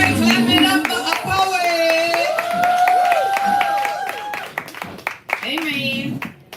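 Rhythmic clapping from an audience at a live spoken-word poetry event rises under a loud voice, with sharp hand claps at a steady beat alongside shouted, almost chanted talk.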